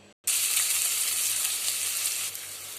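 Chopped large onion drops into hot oil in a kadai for a colocasia pulusu, bursting into a loud, steady hiss after a brief gap and continuing close and unbroken, with no speech.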